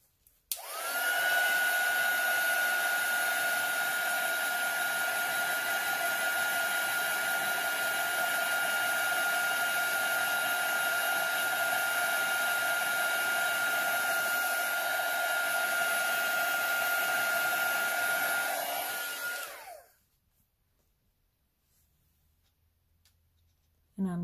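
A heat tool blows steadily and loudly for about twenty seconds, warming an alcohol ink and resin bracelet, with a high whine over its airy roar before it cuts off abruptly.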